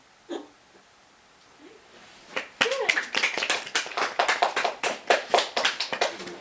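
A few hands clap in a steady, close run of sharp slaps after a single early tap, heard alone in a quiet room during a storytelling of a fairy tale.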